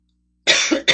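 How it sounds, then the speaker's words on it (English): A single loud, close cough bursts out after a moment of silence, followed by the start of another cough. "I guess this cough is going to linger on and on and on."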